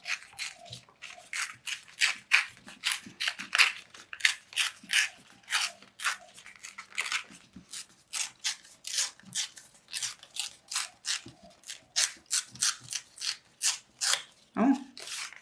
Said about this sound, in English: Okay, I have 3 paper strips and I'm going to try to tear them